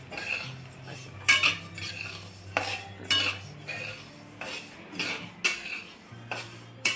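Sesame seeds being roasted in a pan for sesame-jaggery laddus, a metal spoon repeatedly scraping and clinking against the pan in an irregular stirring rhythm, close and moderately loud with no voices.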